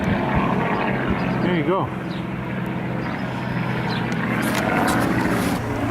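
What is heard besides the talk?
World War I era biplane and triplane flying overhead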